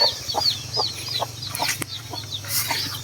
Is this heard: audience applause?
no